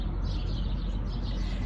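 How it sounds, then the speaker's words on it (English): A dense chorus of birds chirps continuously in the early-morning dark near Kingman, Arizona, over a low, steady rumble of background noise. "Can you hear all those birds?"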